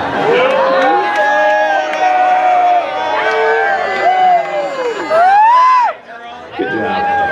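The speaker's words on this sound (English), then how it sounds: "the slow sound of a bunch of like tired, semi-drunk people cheering" A crowd of tired, half-drunk people cheering in slow, drawn-out whoops and yells that overlap for several seconds, loud and close, with a brief dip before the cheering picks up again.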